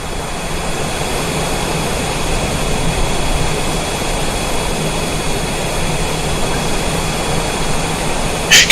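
Small airplane engine and propeller droning during climb: a loud, steady, unbroken roar from inside the cabin that holds constant throughout, with no voices.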